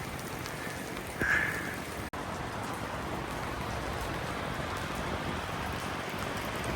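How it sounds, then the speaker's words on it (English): Rain falls steadily near coastal caves on a seashore, a constant close hiss of drops with no break and one brief sharp knock partway through. "This is a good place to get out of the rain."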